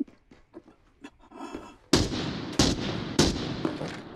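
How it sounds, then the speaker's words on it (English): Gunfire rings out in the video game Arena Breakout: Infinite: after quiet low thuds and rustling, loud sharp shots crack in a burst, several close reports spaced a second or so apart. "I'm getting shot at from above."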